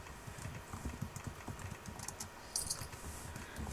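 A cheat code typed on a computer keyboard: a quick, irregular patter of soft key clicks, close but faint, with no talking.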